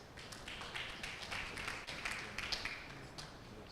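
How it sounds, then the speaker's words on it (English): An audience at a dentistry event claps for a speaker. The applause is fairly soft and scattered, with uneven claps and brief louder bursts that hold steady throughout. "A round of applause for her, please."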